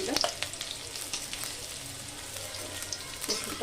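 Garlic dropped into very hot oil already spitting with cumin and mustard seeds, giving a steady close crackling sizzle with scattered pops and spatters throughout.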